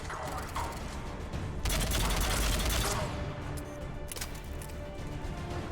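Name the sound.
gunfire in Mass Effect 3 video game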